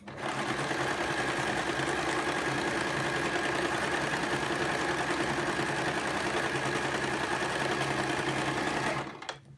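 A sewing machine stitches the last edge of a wrap skirt in a fast, steady, close whirring run lasting several seconds before stopping abruptly.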